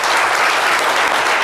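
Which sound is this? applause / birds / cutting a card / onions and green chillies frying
applause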